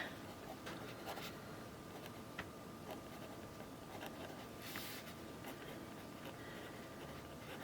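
A pen writing color names on paper, with faint, soft scratching strokes and small ticks in a quiet room, close and low in level.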